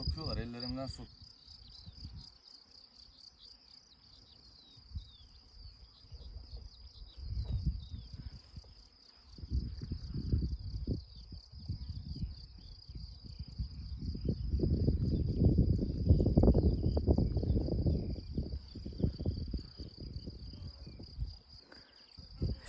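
Steady bee buzzing with a constant high whine throughout, swelling louder and more rumbling in the second half as bees swarm close by around a caravan in Kayseri.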